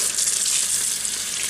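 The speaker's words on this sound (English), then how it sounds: "I wash with running water" Running tap water washes vine leaves in a steady, close, bright rush of water that fills the whole short stretch without pause.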